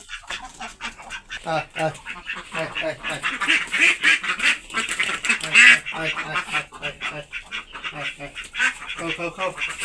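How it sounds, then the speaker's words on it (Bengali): Ducks let out from their shelter quack repeatedly and close up while feeding, a busy run of rapid overlapping calls, with a person's voice mixed in. "হাঁসগুলো বের হয়ে খাওয়া দাওয়া শুরু করছে এখানে"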